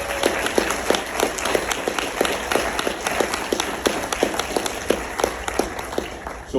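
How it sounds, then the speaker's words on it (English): Graduates applauding at a university summer degree ceremony: a dense wash of crowd clapping runs throughout, with a few sharper claps standing out at a fairly regular pace, all at steady, moderate loudness. "How about you give yourselves another round of applause?"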